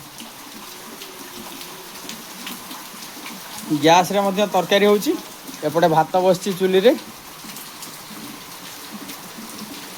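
Steady rain hisses around an outdoor village cooking stove, a constant wash of water noise throughout, while a person talks for a few seconds in the middle.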